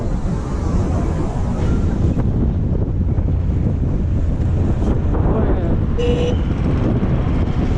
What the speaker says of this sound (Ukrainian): Сильний вітер. Прям дуже.